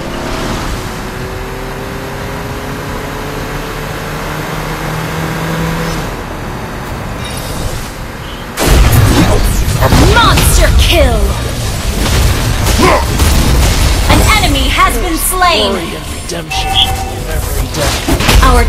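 Attack explosions and a turret being destroyed in a MOBA-style game, with loud rumbling blasts and effects under an announcer voice calling out team events.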